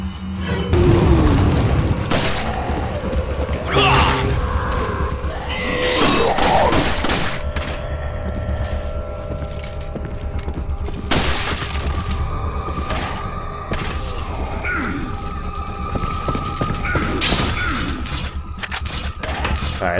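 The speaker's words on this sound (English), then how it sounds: "I'm just gonna throw a regular hand grenade in there" A hand grenade blasts in the Resident Evil 4 video game, a loud booming explosion amid constant mechanical clanks, thuds and rumbling game noise, with no talking.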